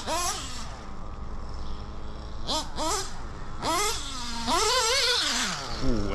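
A small high-pitched nitro RC engine, modded Novarossi P5 based, with a Reds 2104 tuned pipe, screams and revs up and down in repeated bursts, rising and falling sharply, with a steady background drone.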